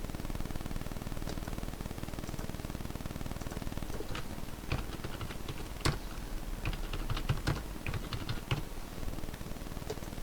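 Faint, scattered keystrokes tap on a computer keyboard over a steady background hiss, coming in irregular clusters with a few sharper clicks toward the middle.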